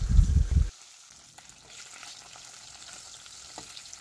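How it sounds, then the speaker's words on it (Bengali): Fish sizzling in hot mustard oil in a wok, a loud burst of frying for the first moment that cuts off abruptly, leaving only faint kitchen background. "এবার এক এক করে মাছগুলো ভেজে নেওয়া হবে।"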